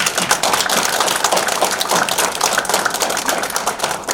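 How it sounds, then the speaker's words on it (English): Audience applause at a China-US friendship photo exhibition event, loud, dense clapping from a crowd sustained evenly for several seconds with no speech. "Let's give them a big applause"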